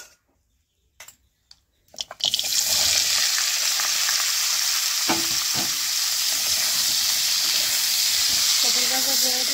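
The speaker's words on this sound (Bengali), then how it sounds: "অল্প করে ভাজা করতেছি" Fish and lai shak greens frying in a pan, a loud steady sizzle and hiss that starts after about two seconds of near silence with a few soft knocks, then runs continuously with occasional stirring clatter.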